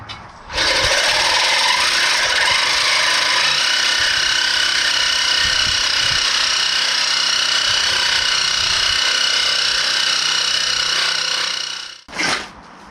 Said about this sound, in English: the Sawzall, the blades that I bought aren't hard metal, and obviously the bolts are just ridiculous